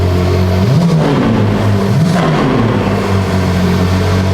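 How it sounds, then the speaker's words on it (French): A car fitted with an IPE F1 exhaust revs twice with its valves closed, a close, loud engine note rising and falling against a steady idle. "Mets un petit coup de gaz fermé"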